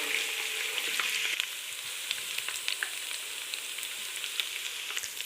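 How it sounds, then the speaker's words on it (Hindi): Ginger paste fries in hot oil, a dense, even hiss with scattered small pops and spits, close and continuous, a little louder at first and then settling. "1 मिनट के लिए हम इसको फ्राई करेंगे जिंजर को।"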